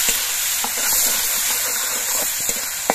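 Onion paste frying in hot oil with cumin and bay leaf, a dense close sizzle with a few soft stirring taps, heard alone.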